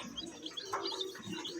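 Newly hatched chicks chirp in a steady stream of high, thin peeps, several birds overlapping at close range with no voices.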